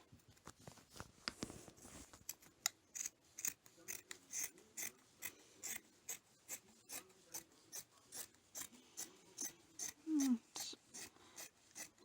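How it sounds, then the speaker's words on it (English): Scissors cutting down the center of a folded tea towel, a close, regular series of crisp snipping strokes at a steady rhythm, with a brief rustle of fabric near the start. "So now I'm just going to cut down the center here, right down the center as evenly as possible"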